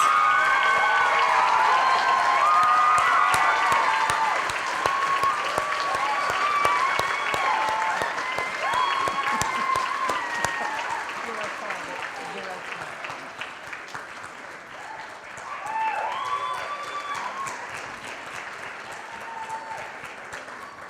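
Sustained audience applause at the Miss Auburn scholarship pageant, a broad crowd clapping with some cheering and whistles, strong at first and gradually easing, swelling briefly again later.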